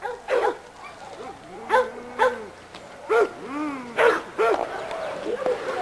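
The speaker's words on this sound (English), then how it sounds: "this is a dog called Hooten's Headhunter" A dog in a kennel yard barks in a series of short, sharp yips and whining barks, spaced irregularly at close range, with some faint background noise between them.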